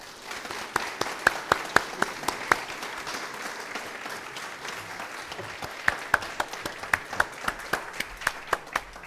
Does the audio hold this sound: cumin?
no